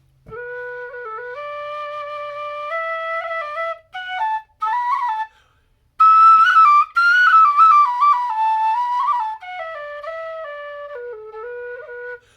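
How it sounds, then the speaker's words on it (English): Shearwater tin whistle played alone with a bright, punchy tone, a clear melodic line of sustained notes with short breaks, close and fairly loud. "So this is a fantastic whistle for when you just want like punchy tone."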